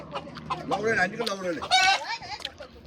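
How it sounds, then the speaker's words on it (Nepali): A chicken clucks and squawks in agitated bursts, close by, with some background noise mixed in. "ल फाइनली कुखुरा समात्यो।"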